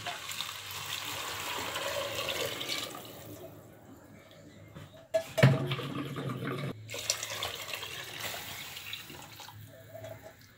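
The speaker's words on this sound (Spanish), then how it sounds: "Entonces ahora hay que poner lo que es el agua. Vamos a llenar esto hasta el tope." A pot filled to the brim with water from a tap for cooking corn, a steady rushing pour that pauses briefly with a clunk, then resumes, close by and moderately loud.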